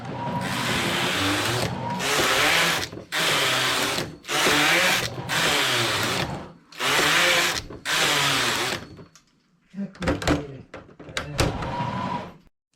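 A knitting machine knitting a two-colour cardigan: repeated loud whooshing carriage passes of about a second each with short gaps, followed by several sharper clacks and shorter bursts, close and without talk.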